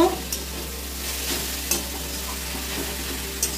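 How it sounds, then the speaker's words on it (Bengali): Grated carrots fry in ghee for carrot halwa with a continuous, close sizzle, while a spoon stirs and scrapes the pan now and then. "ঘিয়ে ভালো করে ভেজে নিতে হবে বন্ধুরা"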